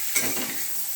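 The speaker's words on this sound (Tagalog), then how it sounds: "prito muna natin ang ating pork stick with butter" Loud, steady sizzling of pork sticks frying in butter in a hot pan, a dense crackling hiss that starts abruptly and continues without pause.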